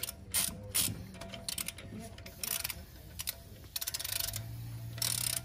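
A ratchet clicks in quick bursts while tightening the rotor retaining screw on a BMW X3 M40i brake, close and crisp, with short pauses between runs of metallic ratcheting.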